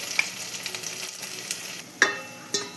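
Cumin, mustard seeds, curry leaves, ginger, coconut and green chilli sauté in hot oil with a faint steady sizzle and a few sharp pops and stirring clicks, close by and quiet.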